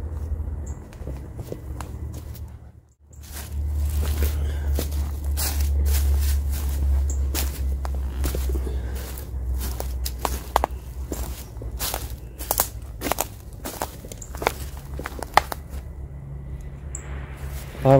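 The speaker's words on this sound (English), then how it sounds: "I'm hearing footsteps." Footsteps crunch and scuff across the floor of an abandoned ice plant at night, an irregular series of sharp steps over a low hum, with talk in places.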